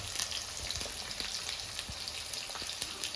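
Chopped onions and green chillies frying in a pan for a Kadai chicken biryani, giving a steady, close sizzle with scattered small pops and crackles, with no voices.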